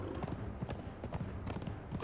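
Horse hooves clip-clop steadily in Conan Exiles, a rapid, even trotting rhythm at moderate volume over a dense game soundscape with music, no talk.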